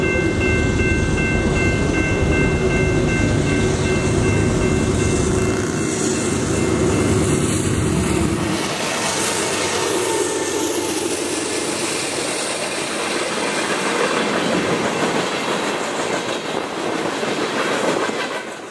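A long BNSF freight train rumbles past close by along the Columbia River, a continuous roar of wheels and rattling cars with a distant horn-like tone early on.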